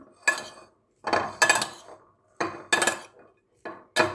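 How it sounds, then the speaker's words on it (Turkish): Purslane salad with salt stirred in a bowl, a spoon knocking and scraping against the dish in several separate bursts of clinks, close and fairly loud with short pauses between. "Bir sefer daha karıştıracağım."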